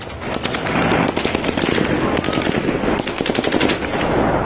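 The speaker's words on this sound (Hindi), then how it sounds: "गोलियां चल रही हैं" Rapid bursts of automatic gunfire crackle in Kherson, Ukraine during the Russian occupation, dense overlapping shots with sharp repeated cracks running throughout, loud and close amid a chaotic crowd.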